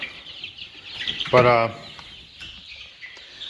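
A chicken gives a short loud cluck close by, with soft peeping chirps of chicks around it in a garage brooder, and a brief spoken word.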